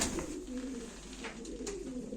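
Low, throaty cooing from Turkish tumbler pigeons at a live auction repeats in short rolling calls against a steady indoor hum and a few soft knocks.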